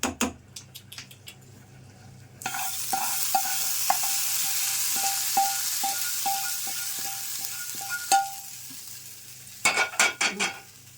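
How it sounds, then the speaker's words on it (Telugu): Hot tempering poured over peanut and coconut chutney sets off a loud burst of sizzling that hisses steadily for several seconds, with small clinks and taps of a spoon throughout and a few louder knocks near the end. "ఇప్పుడు ఈ తాలింపు అంతా దీని మీద వేసేసుకోవాలండి."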